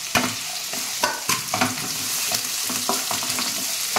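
Dried chillies, curry leaves, ginger and chana dal frying in hot oil, a loud close crackling sizzle punctuated by several sharp spatula scrapes and taps in an uneven rhythm.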